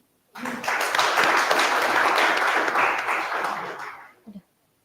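An audience at a PyCon APAC 2024 conference session applauds the speaker, a dense burst of clapping starting abruptly, holding steady for about four seconds, then tapering off with a last few claps.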